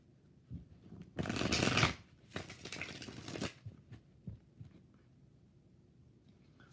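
Tarot cards shuffled close up, a loud dense riffle lasting under a second followed by a second, longer riffle, then a few soft taps and quiet handling.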